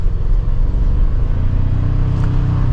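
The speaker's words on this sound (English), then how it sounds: "And now behind the wheel for the Tacoma" A 2024 Toyota Tacoma pickup truck drives with a steady low engine hum and road rumble heard from inside the cab, a constant loud drone with a slight rise partway through and no talking.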